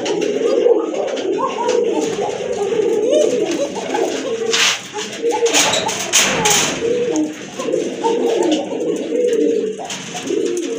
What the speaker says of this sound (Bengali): দেখেন ডাক দেখেন কবুতরের